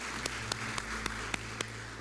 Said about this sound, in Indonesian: Kita tepuk tangan buat Tuhan